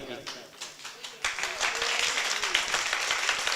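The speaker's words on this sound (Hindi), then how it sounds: "तालियां कमजोर रही आपकी" An audience applauds at a mushaira and kavi sammelan poetry recital in Bilgram. Light scattered claps swell into steady, fairly loud applause that lasts to the end.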